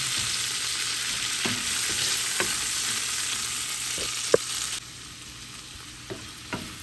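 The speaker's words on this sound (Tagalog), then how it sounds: "Isapay natin dito yung ating bawang, sibuyas, at saka yung ating celery." Garlic, onion and celery sauté in butter and bacon fat, a steady close sizzle with occasional sharp clicks of a utensil against the pan, the frying dropping somewhat quieter partway through.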